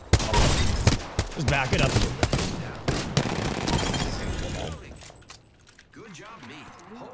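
Rapid gunfire and shotgun blasts from an Apex Legends firefight crackle in dense bursts for about five seconds, then fade into quieter game sounds as someone talks over the action.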